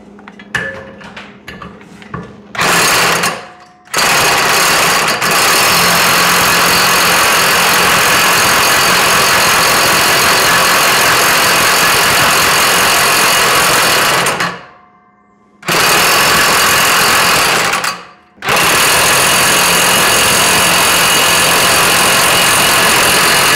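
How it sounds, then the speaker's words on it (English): An impact wrench working loose the blade bolt on a Bad Boy Maverick mower, several long loud rattling bursts close by, cut by short pauses, with no voices. "So now we're going to try putting this on that impact wrench and try to break it loose that way."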